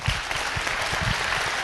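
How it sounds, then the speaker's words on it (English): Council meeting audience giving a standing ovation, steady dense clapping from many hands, continuous and fairly close, without talk. "Round of applause"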